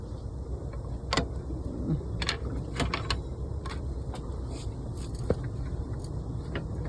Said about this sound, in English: So get a crowbar and just mess with it.